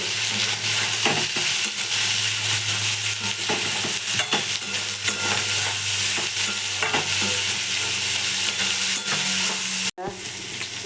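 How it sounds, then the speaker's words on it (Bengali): Chopped green chillies fry in hot oil with salt, giving a loud, continuous sizzle, and a utensil stirs and scrapes the pan in repeated strokes up close before a brief pause near the end. "নুন দেবো পরিমাণ মতন ভালো করে ভাজবো"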